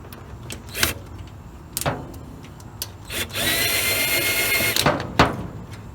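A horn being screwed into the body of a 1936 Chevy Coupe with a power tool: several short clicks and knocks, then a few seconds of steady whirring from the driver, close by, with no talking.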